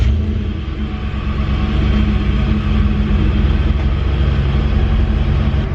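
A warm V8 in a Ford F-150 pickup idles loud and close right after starting, a deep steady rumble that holds evenly throughout.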